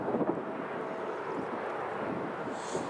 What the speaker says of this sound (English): Q80 is just taxiing behind the bushes there